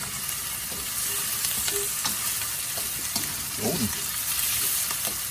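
Tomatoes sizzle steadily in a hot pan during sautéing for a Filipino dish, a constant frying hiss with occasional stirring scrapes and a brief spoken word over it.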